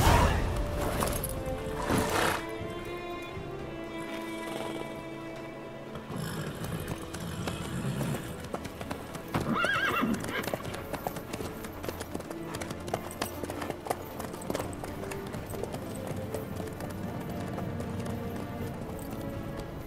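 Horse in the video game The Witcher 3 galloping with rhythmic clip-clop hooves and an occasional whinny, moderately loud and steady under game music and brief character dialogue.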